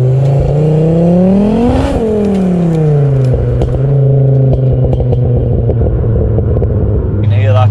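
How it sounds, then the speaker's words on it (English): A 600bhp Ford Focus RS engine revs up and settles back with a rising, falling tone, its turbo spooling and whirring over a rumbling idle, loud and close, with voices talking over it. "You can hear that trying to. Turbo just wants to go, doesn't he? Spooling up."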